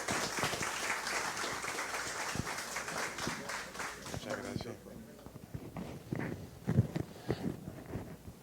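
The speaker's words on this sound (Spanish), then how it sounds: "Un aplauso a Padre Gerardo." Church congregation applause for a priest, a moderate wash of clapping that fades out partway, followed by quieter footsteps, shuffling and low voices.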